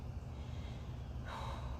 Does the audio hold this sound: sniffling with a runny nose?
yes